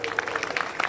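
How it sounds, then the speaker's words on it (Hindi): An audience at a community gathering (Jaat sammelan) claps briefly, the scattered hand claps fairly close and moderately loud, with some voice mixed in. "इसलिए इन सब के लिए एक बार जोरदार तालियां हो जाए।"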